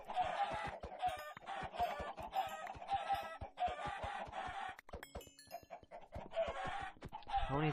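A crowd of Minecraft chickens near a spawner clucking over and over in rapid, overlapping bursts, loud and near, with short gaps and a louder thump near the end.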